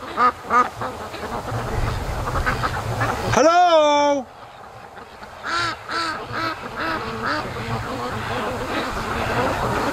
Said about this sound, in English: Come on, ducks, hello!